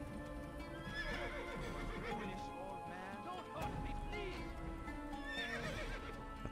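Horse in the Assassin's Creed video game whinnies over a steady clip-clop of hooves, the neighs rising loud and near through the full stretch with little else around them.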